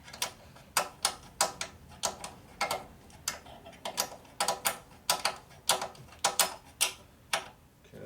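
A wrench turns a bolt one flat at a time during a Harley Sportster XL 650 single rebuild, making a steady series of sharp, close metallic ticks at an even, unhurried rhythm with no talk over it.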